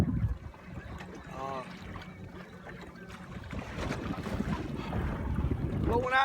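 Wind blowing across a lake, picked up from a boat while perch fishing in February: steady broadband wind rush and microphone buffeting that swells toward the end, with someone speaking intermittently over it.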